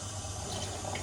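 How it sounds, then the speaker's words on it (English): A generous pour of water over coffee in a pour-over brewer, a quiet, steady rushing trickle heard close up with nothing else over it. "just pouring so much water, because usually I'm doing like quite small pours"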